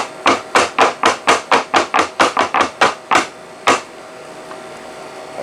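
A chocolate mold is rapped repeatedly on a hard surface, about a dozen sharp, evenly spaced taps in quick succession, then a pause and a single final tap, close and clear with no talk.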